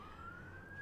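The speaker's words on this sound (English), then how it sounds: "do you hear the sirens? There's a lot of them out there." Faint, distant sirens wail from outside, a thin rising tone drifting over a low background rumble.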